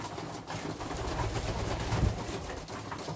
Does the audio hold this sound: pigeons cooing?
yes